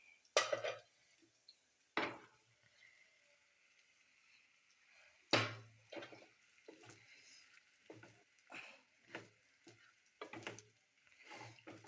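Sabudana khichdi with potato being stirred in a pot, heard as intermittent close scraping and clinking strokes of a spoon against metal, separated by quiet gaps.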